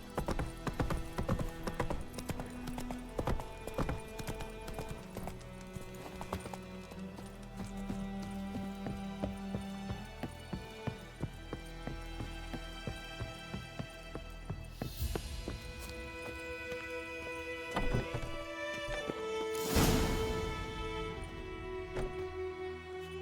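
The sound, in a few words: horse Roach galloping, hooves clip-clopping, from video game The Witcher 3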